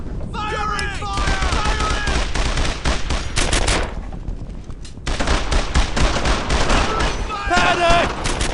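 World War II rifle and machine-gun fire from Brothers in Arms: Earned in Blood, with rapid bursts and scattered shots in a close, busy exchange, and voices shouting among the gunfire.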